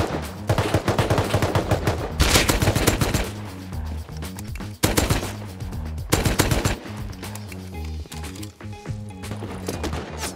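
Gunfire in the survival video game Rust: loud, close bursts of rapid automatic shots, dense and nearly continuous, with short pauses between volleys.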